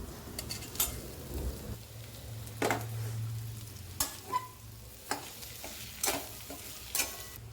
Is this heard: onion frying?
yes